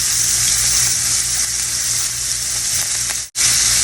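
Butter with garlic, shallots and thyme sizzling in a steak skillet, a loud steady frying hiss up close, briefly cutting out for a moment near the end.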